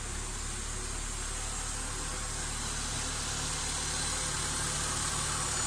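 A Citroen Saxo VTS engine idles steadily at close range, an even mid-pitched hum with a faint whir from the secondary air pump and no talking.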